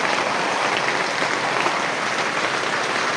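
Steady rain falls on a flooded backyard, a dense, even hiss of drops that holds at the same level throughout with no break.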